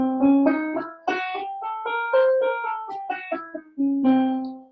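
An octatonic (diminished) scale of sustained harmonic tones rising and falling step by step, played clearly and moderately loud with no talking, like a scale on a keyboard instrument.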